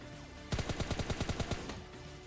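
In PUBG Mobile Lite, an automatic weapon fires a rapid burst of about ten sharp shots lasting roughly a second, fairly quiet over steady in-game ambience, with no talk.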